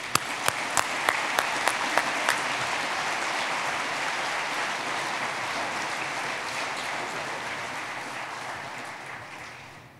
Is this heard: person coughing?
no